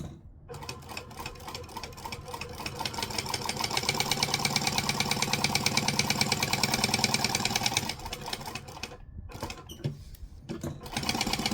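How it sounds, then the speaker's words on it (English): A sewing machine top stitching around the edge of fabric, running in steady rapid mechanical stitches for most of the stretch, pausing briefly near the end before starting again. "we're going to top stitch all the way around that"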